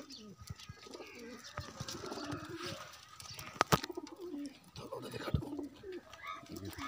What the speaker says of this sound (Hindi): ये हमारे परवाज वाले कबूतर हैं।